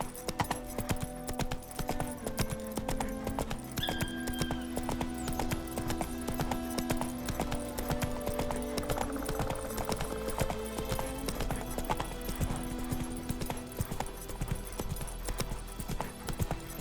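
Roach the horse galloping in The Witcher 3, a steady rhythmic drumming of hooves that runs the whole way through under a layer of game music.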